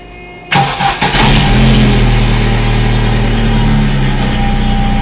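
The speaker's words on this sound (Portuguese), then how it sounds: "Eu vi um barulho nesse seu diferencial aí, cara. É quando ele gira livre assim" An Omega's differential spinning freely, heard as a steady droning hum with a low rumble that kicks in after half a second with a few brief clunks, then holds evenly with no talk.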